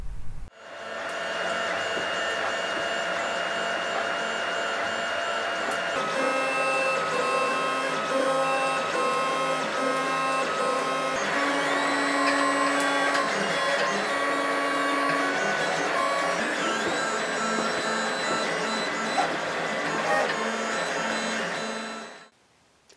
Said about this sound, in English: I'll get those printed and hopefully all those gears will run well together